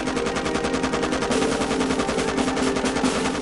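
Rapid sustained automatic fire from a Maxim machine gun, a dense unbroken stream of loud bursts running the full length without pause.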